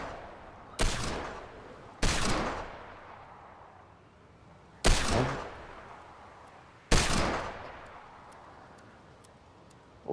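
Gunfire in the Fortnite video game: four sharp, loud shots spaced a second or more apart, each trailing off in a long echoing decay, with no talk over them.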